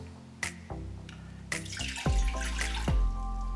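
A cup of water is poured into a small pan on an induction cooktop in a couple of splashing bursts, preceded by light clinks and handling noises, close by.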